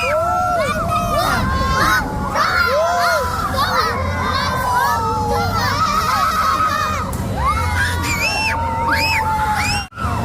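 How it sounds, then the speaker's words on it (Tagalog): Children shout, scream and cheer at a busy school fair, a dense, loud crowd of young voices that carries on without a break. "Sigaw ka lang, Faye, sigaw."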